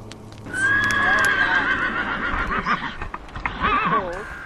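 Horses neigh and whinny near a traditional Ktunaxa teepee in the Rocky Mountains, loud and close, with hooves clip-clopping underneath and a second whinny near the end.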